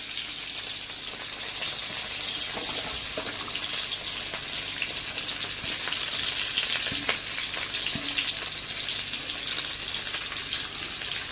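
Marinated meat stirred with spices in a pan, giving a steady, fairly quiet sizzle and frying hiss with occasional scraping and stirring clicks throughout.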